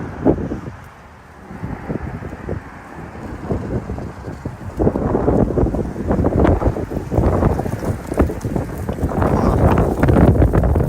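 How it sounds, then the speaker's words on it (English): Wind gusts down a street in Bracebridge, Ontario, on a blustery day, making steady broadband rumble and buffeting that builds louder in the second half, with no talking. "look at the wind blowing down the street here"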